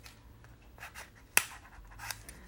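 A single sharp snip of scissors stands out amid quiet rustling and scratching of handled objects, close to the microphone.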